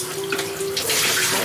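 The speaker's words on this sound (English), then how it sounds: "Sorry guys if you hear noise in the background, I'm doing dishes," Tap water runs steadily into a kitchen sink while dishes are being washed, a continuous close splashing hiss with no voices.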